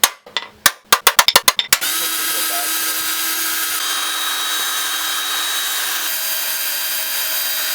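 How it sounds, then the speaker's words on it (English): A power drill starts with a quick series of short revving bursts, then settles into a loud, continuous high-pitched whine close by, drilling holes for spot welds in a Mazda NB Miata during rust repair. "I'm going to start drilling out holes for some spot welds."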